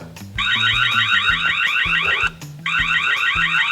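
A loud electronic manual alarm siren from a Tapo C615F solar-powered security camera warbles rapidly, sounding in two bursts separated by a brief pause, with a low rhythmic pulsing beneath.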